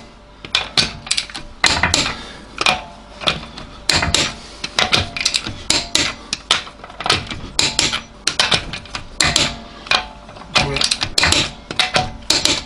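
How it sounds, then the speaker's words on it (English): Wheel nuts on a Hyundai Santa Fe are tightened with a torque wrench to about 82 foot-pounds, producing loud, close, rapid ratcheting clicks in repeated bursts with short pauses between turns. "Just torque the wheel nuts up"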